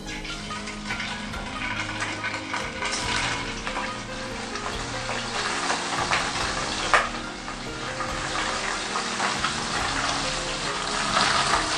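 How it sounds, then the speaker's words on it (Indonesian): Tofu fries in a wok with a small amount of oil, a steady close crackling sizzle with occasional sharper pops and faint stirring scrapes throughout. "Siapkan wajan untuk goreng tahu."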